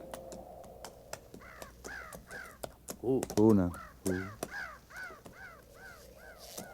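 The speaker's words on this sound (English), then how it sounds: "you hear that? Could mean Indians made a camp. Those crows ain't flying." A steady series of crow caws repeats in a rhythmic run, with a person's voice and exclamations briefly overlapping in the middle.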